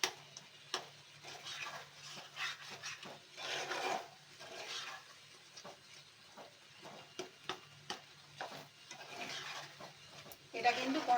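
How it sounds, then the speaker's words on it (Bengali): Spoon stirring mango and grape chutney in a pan, repeated soft scraping and rasping strokes with a light sizzle underneath, fairly quiet and close, with some talk faintly present. "একটু নেড়ে যেতে হবে না হলে এটা বসে যেতে পারে"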